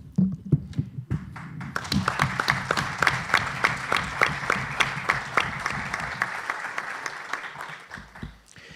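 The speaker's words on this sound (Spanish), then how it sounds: "Qué bueno que te aplaudan al principio, porque ya está, ya gané el aplauso" An audience in an event hall welcomes the speaker with applause, starting with scattered claps and swelling into steady, rhythmic clapping from many hands before tapering off near the end.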